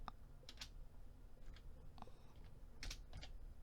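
Several quick keystrokes on a computer keyboard, scattered clicks in short clusters, close and fairly quiet over a low background hum, no talking.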